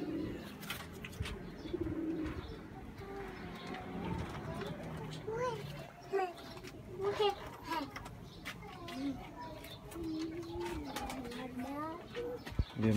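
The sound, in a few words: pigeons cooing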